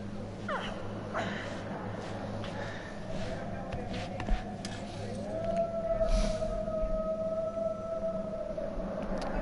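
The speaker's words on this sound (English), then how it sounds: "There we go again with the wolves howling." Wolves howl in the survival horror game Until Dawn, sustained rising and falling cries drifting over a low droning ambience, faint and distant, with a higher long howl near the end.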